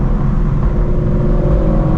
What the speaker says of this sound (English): just the beautiful symphony of the long tube headers